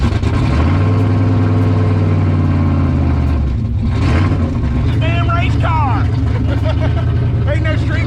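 A Ford race car's engine rumbles loud and close at a Ford-themed car show, with the revs rising and falling as people talk over the noise.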